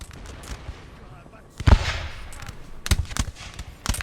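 Musket volleys in the video game Napoleon Total War, a few sharp cracking bursts with rumbling tails over quieter battle noise, moderately loud and spaced irregularly.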